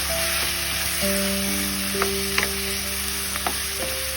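Ground pork frying in a pan while a spoon stirs it, a steady close sizzle broken by a few sharp clinks and scrapes, with sustained tones in the background and no talk.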